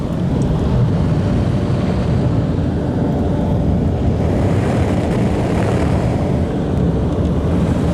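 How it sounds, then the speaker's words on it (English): Car wash drying blowers on a Ryko Premier XL automatic wash at a Mobil station in Paraparaumu, a loud steady broadband roar of forced air that holds constant throughout with no talk. "the blowers are both working fantastically"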